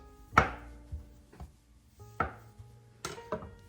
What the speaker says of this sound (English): Canned cinnamon rolls, cut it into quarters.